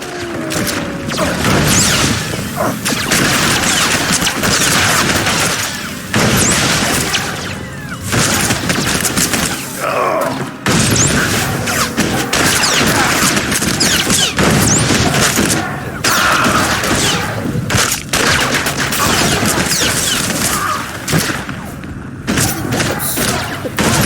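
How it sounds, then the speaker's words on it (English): Blaster fire crackles through a battle in the video game Star Wars: The Old Republic, a loud, dense, almost unbroken barrage of shots and heavy thuds that runs throughout, with faint voices mixed into the din. "Open fire, men!"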